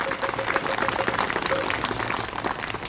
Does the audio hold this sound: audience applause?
yes